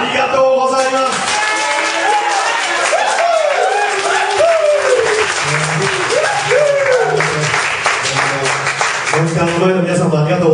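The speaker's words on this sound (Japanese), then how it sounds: "その少なめのお客さんもこうやって力を合わせて大きな拍手で迎えてくれる" A small audience at a live show in Sapporo applauds steadily and warmly, the clapping filling the room throughout, while a performer speaks over it.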